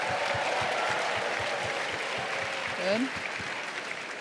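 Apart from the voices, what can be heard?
audience applause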